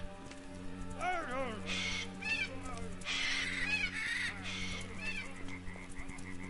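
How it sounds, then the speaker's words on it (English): Macaw calls ring out in a jungle-like video game scene, a series of bright, rising and falling squawks repeated several times over a steady droning background. "Is that a macaw? This must be a macaw."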